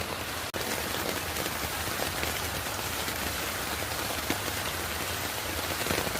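Continuous rain pours onto a rooftop garden with lemon, rose and butterfly pea plants in the morning, a broad steady rush with one sharp click near the start and occasional louder drops.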